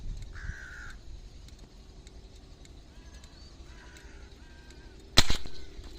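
Crows caw in a natural outdoor setting, with a few separate mid-distance calls spread over a quiet background and a sudden loud sharp bang near the end.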